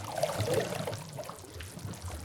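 An Overwatch-style water spell sound effect, dry version: a soft, muffled watery swish and trickle, brief and fairly dry, with low gurgling movement fading slightly toward the end.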